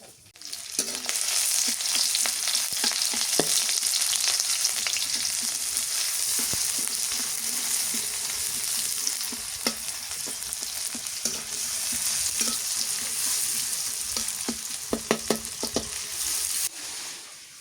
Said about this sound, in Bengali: পেঁয়াজ তেজপাতা ভাজা হয়ে গেছে